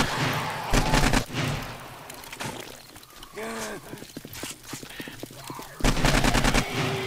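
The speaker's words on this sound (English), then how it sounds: "Where I'm firing all my ammunition off." Bursts of automatic gunfire from the zombie survival game 7 Days to Die during a horde night, loud rapid volleys separated by gaps and scattered single shots, with game sounds in between.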